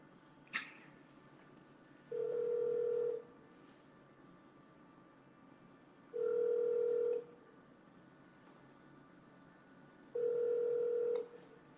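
During a phone call transfer, a faint, steady ringback tone sounds three times, each about a second long and spaced roughly four seconds apart over a quiet line, with no talking.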